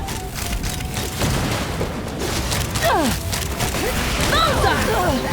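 Gunfire and explosions from the video game Genshin Impact, with bursts of shots, booms and whistling projectiles sweeping up and down amid a busy, dense battle mix.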